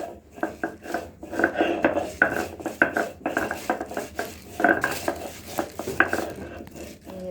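Dried chepa shutki fish is ground on a sil pata stone, a close, uneven series of scraping and knocking strokes with rough rubbing between them and no talk.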